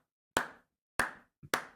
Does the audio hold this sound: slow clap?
yes